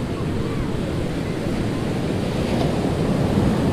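Sea waves break on Puri beach on a cloudy early morning, making a steady, dense roar of surf mixed with wind buffeting the microphone. The sound is loud and continuous throughout, with no clear pauses.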